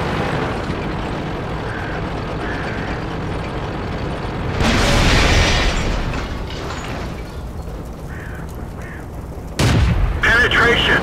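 Tank guns firing in World of Tanks, with several heavy booming blasts standing out over continuous game noise and someone talking.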